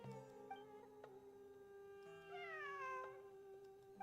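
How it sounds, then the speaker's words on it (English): A cat in the video game Genshin Impact meows once, drawn out and fairly faint, over a steady sustained musical drone. "I'm not hearing things. It really is a cat."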